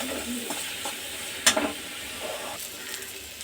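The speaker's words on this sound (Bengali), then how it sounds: "মূলো শাক ভাজাটা আর একটু হবে," Radish greens fry in a pan with a steady close sizzle, broken by one sharp scrape of stirring midway; no talking.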